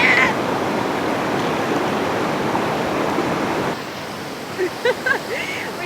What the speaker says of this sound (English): We got Faris killing it under the waterfall with a little free massager